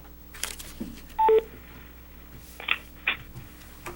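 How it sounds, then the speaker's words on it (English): Telephone dialing tones from a phone placing a callback during a remote zoning board of adjustment meeting: a short burst of paired DTMF keypad tones, followed by a couple of brief beeps, over quiet background hiss. "Let me try calling back one more time, but I'm going to have I'm gonna use Shelley's phone instead of mine"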